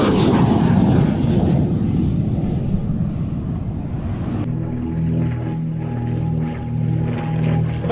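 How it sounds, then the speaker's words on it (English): A de Havilland Vampire jet roars past loudly in a broad rush that fades, leaving its Goblin engine's steady whistling drone with sustained tones hanging in the air afterward. "plenty of the de Havilland Goblin engine whistle"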